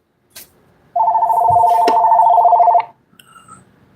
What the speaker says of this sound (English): The money bell is ringing with another spam call.